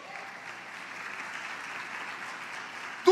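Church congregation applauding, a steady wash of many hands clapping at moderate level for about three seconds before a sudden louder burst at the end.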